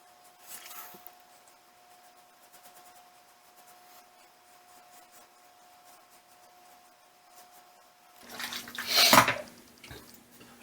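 Water splashes near the end of a wet shave with mud shaving soap as the face is rinsed, a short close burst after a long near-silent stretch with faint clinks early on.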